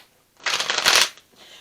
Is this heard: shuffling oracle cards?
yes